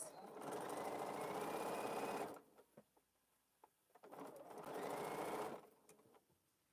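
Sewing machine stitching quilt pieces in two steady bursts of about two seconds each, separated by a quieter pause with small clicks and handling noises, close and fairly loud.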